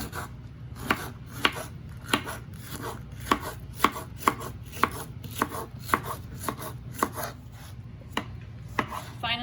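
Knife chopping jalapeno pepper on a cutting board, steady rapid chops in an even rhythm, close and crisp, with no voices.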